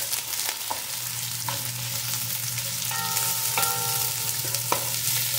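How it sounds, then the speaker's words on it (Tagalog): Onions for ginisang mongo frying in a pan, a steady hiss of sizzling oil with occasional scrapes and clinks of a utensil stirring, close and continuous with no talking. "ilagay na natin ang mga sibuyas. Tayin natin na mag-translucent ito siya"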